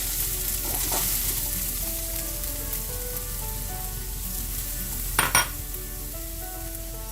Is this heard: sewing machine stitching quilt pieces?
no